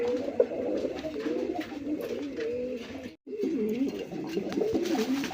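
A male Maxi racer pigeon coos again and again, close by and moderately quiet, in low rolling phrases with one brief break partway through.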